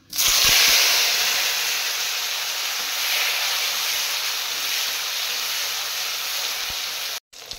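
Tomatoes land in a pan of frying spices for a vegetarian potato curry, setting off a loud, steady sizzle and hiss that stays strong and continuous for several seconds before cutting off abruptly near the end.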